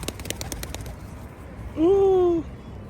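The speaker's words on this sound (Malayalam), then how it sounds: "നല്ല രസമുള്ള പ്രാവ്" A single low cooing call from a pigeon, close and clear, after a second of faint rhythmic clicking and background rumble.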